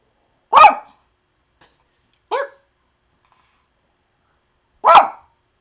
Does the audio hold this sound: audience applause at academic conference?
no